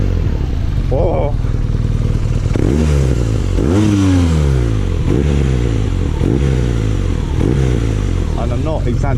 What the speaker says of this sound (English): it's just how the engine goes like this, and then it all shakes.